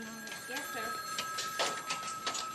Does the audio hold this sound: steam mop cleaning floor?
no